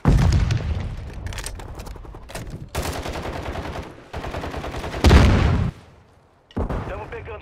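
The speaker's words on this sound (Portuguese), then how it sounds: "Jogando granada." Grenade blast and dense gunfire in a Call of Duty: Modern Warfare II Domination match: loud bursts of rapid shots, with a heavy broadband boom near the end, a short lull, then more shooting.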